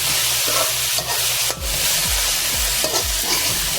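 A spoon stirs a tomato mixture in a hot pan, with steady frying sizzle underneath and rhythmic scraping strokes of the utensil, close and clear without talk.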